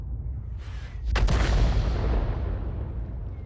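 An AMX 13 F3 AM self-propelled gun fires in World of Tanks, with a faint earlier thud followed by one loud, close cannon blast whose booming rumble slowly decays over several seconds, alone without speech.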